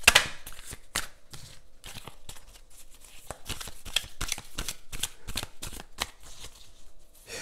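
Tarot cards are shuffled at close range, a dense run of crisp riffling and slapping card noises with brief pauses, no talking.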